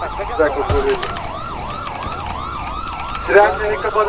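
Police sirens wailing in the FiveM (GTA V) game during a bank robbery, several overlapping swooping tones cycling steadily and loud, with a brief burst of other game noise near the end.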